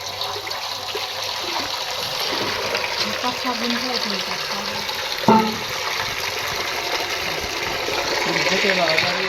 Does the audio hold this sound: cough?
no